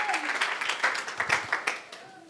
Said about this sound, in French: Someone clap for Jesus.